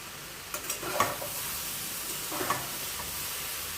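Soya mushroom keema with peas fries in a pan as kasuri methi is added, a steady close sizzle broken by a few scraping stirs of the spatula.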